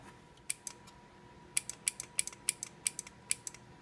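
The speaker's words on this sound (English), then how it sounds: "You can hear the relay." Relay inside a KitchenAid stand mixer under repair clicking: a single sharp click, then a quick irregular run of about a dozen crisp clicks close by, over a steady low hum.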